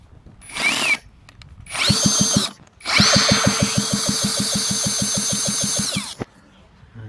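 A cordless drill driver whirs in three bursts, short at first then a long sustained run, with a rhythmic clicking pulse throughout, close and loud, used while working on a vintage Stihl 075AV chainsaw powerhead.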